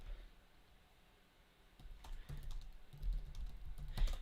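Fast clicking keystrokes on a computer keyboard of an unfamiliar layout, starting soft and growing busier and louder in the second half, a steady patter of close taps with no talk.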